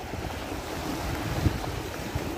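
Black Sea waves at the shore near Odesa, a soft continuous wash of surf with low rumbling swells and a couple of louder breaks, mixed with wind buffeting the microphone.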